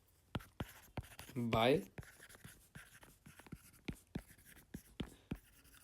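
Pen scratching out a handwritten accounting entry on paper, a run of short sharp strokes and taps spread throughout, close and fairly quiet, with a brief murmured voice partway through.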